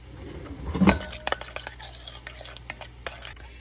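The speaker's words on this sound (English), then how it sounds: "we're gonna give this a good stir" A spoon stirs a seasoned mixture with Italian seasoning in a bowl, giving a loud clunk near the start followed by light, scattered scraping and clinking strokes.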